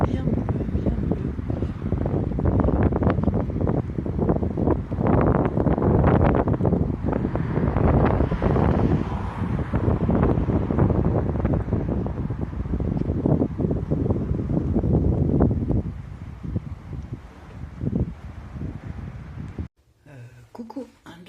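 Icy wind buffets the microphone at the seaside, a loud steady roar with gusts over distant surf, and a voice speaks over it before the sound cuts off near the end.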